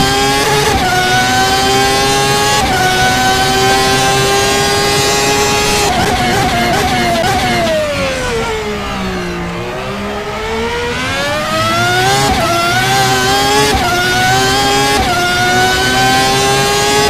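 Formula V12 race car engine in the Game Stock Car 2013 racing game roars loud and continuous, climbing through revs with quick upshifts, dropping low under braking around a corner, then winding back up.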